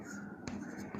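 A pen or marker scratches across a board in a classroom, brief scrawling strokes heard close under low background noise.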